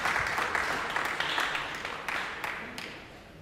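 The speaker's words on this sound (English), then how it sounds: "and the Japanese side applaud" Japanese team applauding at a 2013 World Cup of Pool quarter-final match against Holland: steady, moderately loud crowd clapping with scattered sharper claps, continuous throughout with no talk over it.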